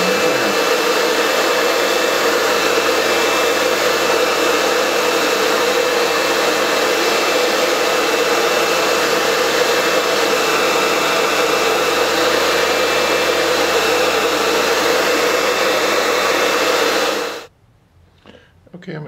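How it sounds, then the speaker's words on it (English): A blow dryer runs steadily and loudly close by while heating Clear Ballistics ballistic gel, a continuous whooshing roar lasting about seventeen seconds before it switches off abruptly into near silence. "you take a simple blow dryer"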